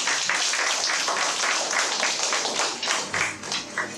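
A school audience in New Orleans applauds jazz musicians at a traditional jazz school program, a dense, continuous wash of clapping that thins toward the end.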